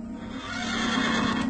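A stallion gives a loud, drawn-out neigh with a strong tonal whinny, heard close over an outdoor background with a faint clatter of hooves.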